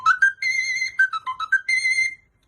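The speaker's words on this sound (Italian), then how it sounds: "Questo per esempio è un fiscaletto in Do" A small fiscaletto whistle pitched in C plays a quick, shrill run of bright piping notes, close and loud with short gaps between phrases.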